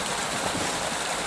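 Water from a mountain stream rushes steadily through a channel in a hill village, a close, even hiss of flowing water with no pauses.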